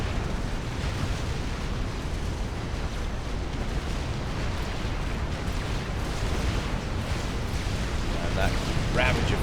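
Ravager artillery fire in Forged Alliance Forever makes a dense, rumbling barrage of booms and explosions, continuous and moderately loud, heard beneath a caster talking.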